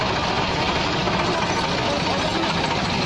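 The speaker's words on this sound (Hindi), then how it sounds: "सो इस टाइम तीन ट्रैक्टर लग रहे हैं इस मशीन को कढ़न वास्ते" Three tractors, a Massey Ferguson 375, a Massey Ferguson 260 and a Belarus, run their engines hard while pulling a harvester stuck in mud, a steady loud rumbling drone without pause.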